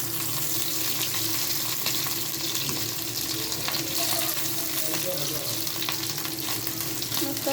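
Fish sizzling in hot oil in a pan in a home kitchen, a steady, close crackling hiss that continues without a break.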